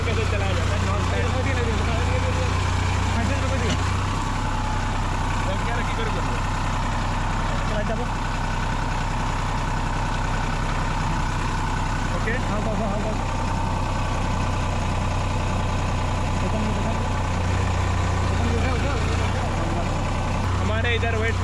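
A large tractor engine runs steadily during farm work in rural West Bengal, India, a constant loud low rumble throughout with talk over it.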